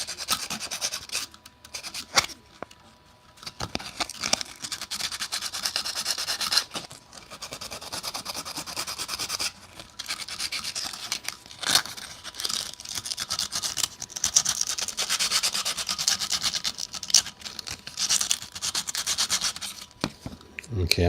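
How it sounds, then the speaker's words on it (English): 120-grit sandpaper rubs against a 3D printer filament spool in steady scratchy strokes with brief pauses between them, fairly close and continuous for about twenty seconds. "This is pretty hardy sandpaper too"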